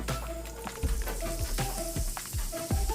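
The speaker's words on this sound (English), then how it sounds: "That sizzle." Chopped onions sautéing in a hot pan give a steady frying sizzle with crackling pops and occasional stirring scrapes, close and continuous with no talk.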